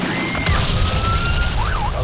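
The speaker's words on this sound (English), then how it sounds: "Add like a bunch of like gunshots and like explosions." Layered gunshot and explosion sound effects form a dense, loud booming wash, with wavering siren-like tones gliding over it for about two seconds.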